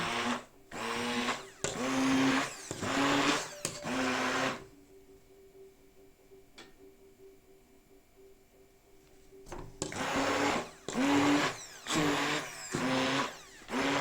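A blender whirs loudly in several pulsing bursts while blending goat's milk cheese, stops for a quiet stretch, then starts again with more short, roaring pulses.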